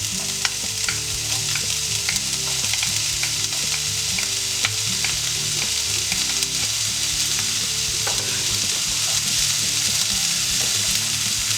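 Chopped onion fries in hot oil in a frying pan with a loud, steady sizzle close by, and occasional faint utensil scrapes and pops run through it.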